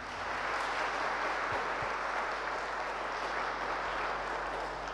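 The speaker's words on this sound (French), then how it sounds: "alors nous donnons un grand applaudissement" A church congregation at a Saturday Mass at St Patrick gives a round of applause: a steady, dense wash of clapping that holds evenly throughout at a fairly soft level.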